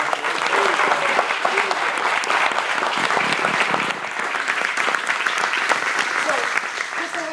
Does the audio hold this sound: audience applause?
yes